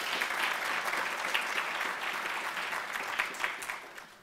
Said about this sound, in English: So give yourself a real big round of applause.